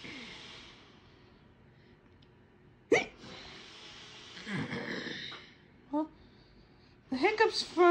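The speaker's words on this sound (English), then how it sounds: "You get rid of the hiccups for me." Hiccups: a few sharp, abrupt hiccups spaced apart, close and fairly loud, with breathy sighs and quiet breaths between them.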